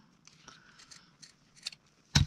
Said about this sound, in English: Cutting these big things with these, or these little things with these big scissors.